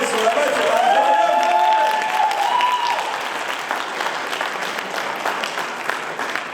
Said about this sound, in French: on peut les applaudir aussi très très fort